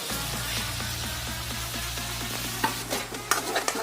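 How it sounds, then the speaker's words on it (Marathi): Ground masala paste for a crab curry sizzles steadily in hot oil, a dense continuous frying hiss with a low hum beneath and a few sharp scraping stirs near the end, no voices. "हा मसाला चांगला भाजून घ्या तेल सुटेपर्यंत"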